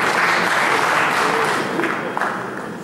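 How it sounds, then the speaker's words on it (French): An audience at a talk on intellectuals breaks into sustained applause. The clapping is loud and dense and stays steady before tapering slightly toward the end. "Mais vous pouvez continuer à applaudir aux socialistes."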